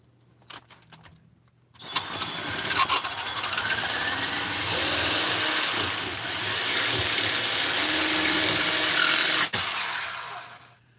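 A drill spins up after a few clicks and grinds steadily, drilling a hole to final size for a thread insert in a 346xp, loud and close, with a brief dip before it stops.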